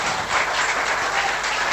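Sustained applause from an audience at a Venice gala award ceremony, dense steady clapping filling the hall without pause and with no voices above it.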